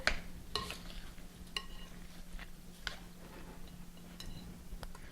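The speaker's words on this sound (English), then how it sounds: "And then mix it all together." Ingredients being stirred together for a cheese dip, with shredded cheese and fresh cracked pepper in the mix, giving soft scraping and clinking strokes against the bowl at a steady pace, near and fairly quiet, with no talking.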